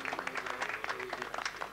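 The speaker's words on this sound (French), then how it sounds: "Je réclame un tonnerre d'applaudissements pour votre futur souverain bien-aimé." A cartoon crowd claps for a future sovereign at a coronation, the applause a dense, steady patter of many hands that runs evenly throughout at moderate loudness.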